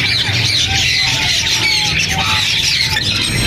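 Caged birds at a Sunday bird market in Bahawalpur, including green ringneck parrots, squawking and squealing in loud, overlapping shrill calls close by, with a dense steady chorus and no clear talk.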